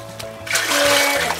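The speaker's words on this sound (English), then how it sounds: "Let me rinse a little." Water splashes and trickles as a toy doll is rinsed during bath time, a short burst of close, swelling splashing over a steady background.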